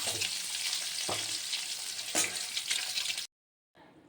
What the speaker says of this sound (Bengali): এবার আমি ভেজে নেবো ভালো করে। তো দেখো ডিম ভাজা হয়ে গেছে